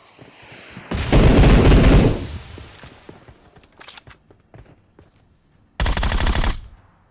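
Groza assault rifle fire in the BGMI battle royale mobile game: a loud, full burst of rapid shots, a stretch of quieter distant pops, then a second sharp burst near the end.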